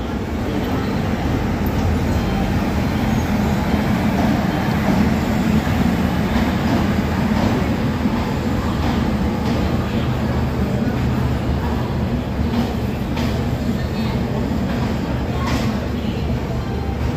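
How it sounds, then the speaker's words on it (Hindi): Ajmer Amritsar Express pulling out of a station platform: a steady, loud low rumble and rolling wagon noise fills the whole stretch without letup, with faint clanks on top. "हमारी ट्रेन को भी डिपार्चर दिया जा चुका है साथ में"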